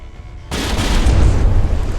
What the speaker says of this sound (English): And finally, the forward gun is able to respond.